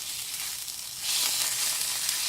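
Food fries in a pan over a flame set a little too high, giving a steady, loud close-up sizzle that swells even stronger partway through.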